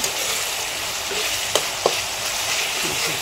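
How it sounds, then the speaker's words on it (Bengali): Spice masala fries in a pan for a Bengali basa fish curry, with a continuous close sizzle and a couple of sharp stirring clicks. "মশলাটা ভাজা হয়ে গেছে,"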